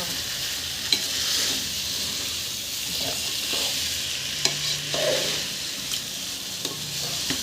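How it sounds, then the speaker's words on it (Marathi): Biryani rice being stirred and mixed in a pan, a steady hissing sizzle with occasional scraping and light knocks of the spoon, no talk over it. "बिर्याणीचे तांदूळ बी मी छान त्यात मिक्स करणार"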